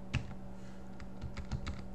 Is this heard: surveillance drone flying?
no